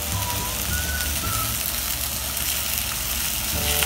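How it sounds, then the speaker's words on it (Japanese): Scallops with a starch coating sizzling in oil in a hot frying pan, a steady, dense crackle and hiss running throughout at close range. "それでは、ね、炒めたいと思います。"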